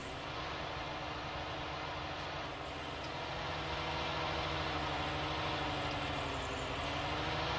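Tractor engine under full load pulling a 200 horsepower plough, a steady low drone with a continuous mechanical hum, constant and fairly faint throughout, no voices.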